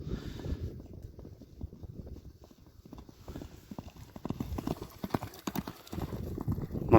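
Racehorse Karager's hoofbeats approaching at a gallop, a steady rapid clip-clop drumming on the ground, fairly faint at first and growing closer, with a brief whinny and faint voices in the background.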